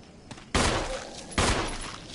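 Two sharp, loud gunshots in the Resident Evil video game, about a second apart, each cracking out with a brief noisy tail, with no voices present.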